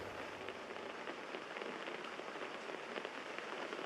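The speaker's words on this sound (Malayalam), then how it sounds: "ഈ മഴയാണെന്ന് തോന്നുന്നു" Rain falls steadily with a dense, even hiss of drops striking surfaces, a soft continuous patter that stays constant from start to finish.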